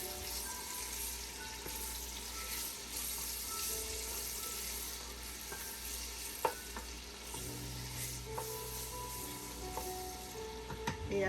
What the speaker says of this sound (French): on va prendre nos oignons qu'on va faire revenir dans l'huile.